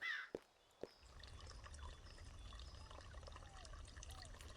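Soft trickle of water being poured in the video game Pumpkin Panic, faint and steady after a couple of brief clicks, with low background noise.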